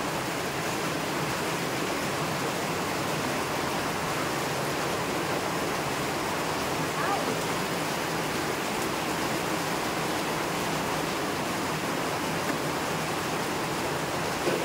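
Heavy rain pours steadily in Quezon Province, Philippines, a dense, loud, unbroken wash of water with no talk over it.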